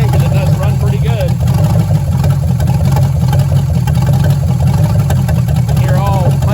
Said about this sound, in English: You got all the sound of a 350 with none of the performance.